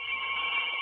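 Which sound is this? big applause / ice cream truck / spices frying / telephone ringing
telephone ringing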